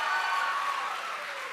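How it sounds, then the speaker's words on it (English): An awards ceremony audience claps in a dense, steady burst of applause that holds at an even level, fairly soft and somewhat distant, with no voices over it. "so we'll hold the applause until all three places"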